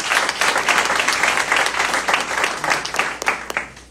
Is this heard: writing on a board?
no